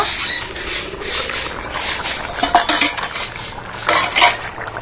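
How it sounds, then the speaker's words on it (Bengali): A metal lid comes off a pot of Bengali vegetable khichdi with winter vegetables, with sharp clinks and scraping clatters near the middle and end over a steady background hiss. "দশ মিনিট পরে আবার ঢাকনাটা খুলে নেব"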